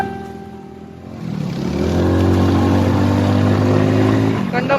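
A motorcycle engine idles, then revs up into a loud, steady drone that holds before dropping off at the end, with voices nearby.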